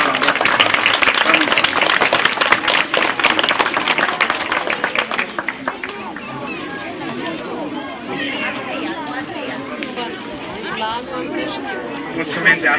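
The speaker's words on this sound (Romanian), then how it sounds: "Să-i aplaudăm pe cei mici și ei să se îndrepte spre sala de clasă." At a school year opening ceremony, an outdoor crowd claps briskly for the small preparatory-class pupils for several seconds, then the clapping gives way to busy crowd chatter and children's voices.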